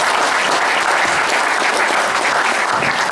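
Loud, dense applause from a university lecture hall audience of business school students during an invited talk by a national assembly member, continuous clapping filling the whole three seconds.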